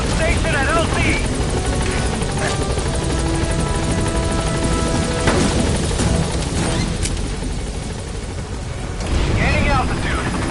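The support helicopter in Metal Gear Solid V comes in to the landing zone with a loud, steady rotor roar and whine, close and constant throughout. Radio voices and brief bursts of other game noise sit on top.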